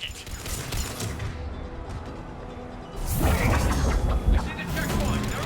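Gunfire from Cerberus troops at a checkpoint in Mass Effect 3, a dense battle din that grows louder and busier halfway through, with bursts and booms under a steady wash of combat noise.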